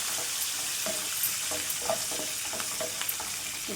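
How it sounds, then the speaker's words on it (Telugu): Finely chopped green chillies fry in oil in a pan for a Telugu-style fish curry, a steady broadband sizzle with light stirring scrapes at intervals, close and continuous with no talking. "మంచిగా వేగాలండి ఇది."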